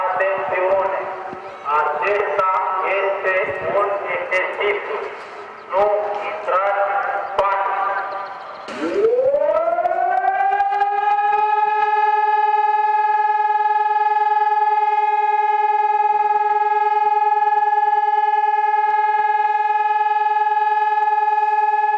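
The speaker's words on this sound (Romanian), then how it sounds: "după care au pornit sirenele" A civil defense siren sounds in a test of the population alarm system in Giurgiu, first mixed with other sounds and talk, then rising into a loud, steady, sustained wail that holds for over ten seconds.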